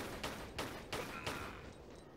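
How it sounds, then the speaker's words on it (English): Video game gunfire rings out while shooting an enemy in Tomb Raider TRLE, with four evenly spaced shots over a dense, steady game background and no talking. "keep hopping back and shooting the guy, he doesn't get a chance on you"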